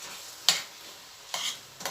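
Rice and minced meat stirred with salt and black pepper in a pan, giving a few brief scraping sweeps of the spoon over a soft steady sizzle, close and moderately quiet.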